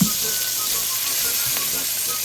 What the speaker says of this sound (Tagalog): then you have to add 4 cloves of garlic fresh, and then you have to stir also